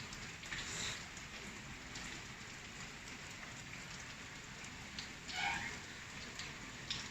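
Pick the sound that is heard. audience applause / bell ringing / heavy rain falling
heavy rain falling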